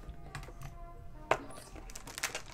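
Keycaps on a Dierya DK-63 mechanical gaming keyboard clack as a child presses them, a few scattered, irregular taps with one sharper click standing out over a quiet room.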